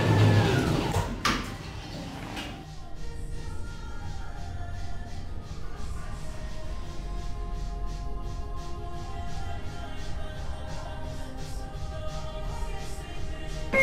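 Schindler 5500 traction elevator doors in a Roblox game slide shut with a sharp thud at the start, followed by a steady mechanical hum as the car runs, with no talking.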